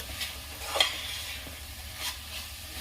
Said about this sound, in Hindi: इसी वक्त मैं इसमें चना डाल दूंगी और इसे मैं चारों तरफ ऐसे मिला दूंगी